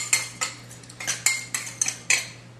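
Cornstarch and sugar are whisked together in a bowl, a string of about eight sharp metallic clinks and scrapes of the whisk against the bowl, close and fairly loud.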